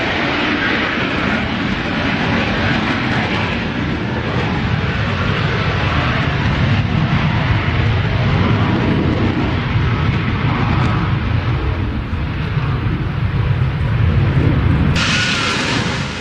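Military fighter jets such as F-22s, F-35s and F-14s fly overhead, producing a loud, continuous roaring rumble that holds steady for the whole stretch with no talking.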